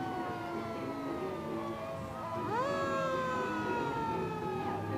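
A bright red fire engine rolls down Government Street in a Mardi Gras parade, its siren wailing in long rising and falling sweeps over steady crowd and street noise.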